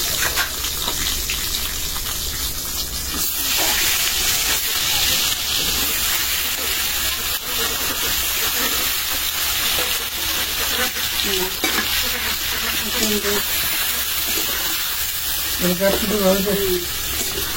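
Prawns fry in hot oil with cauliflower in a home kitchen, a continuous bright sizzle with occasional stirring scrapes and bubbling, while voices talk quietly in the background.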